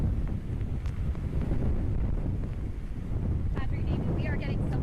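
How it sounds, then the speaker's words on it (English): Strong hurricane wind gusts roar steadily into an outdoor microphone, a dense continuous rumble of buffeting with winds up to 70 miles an hour, with faint voices under the noise. "Patrick, David, we are getting some strong wind gusts out here."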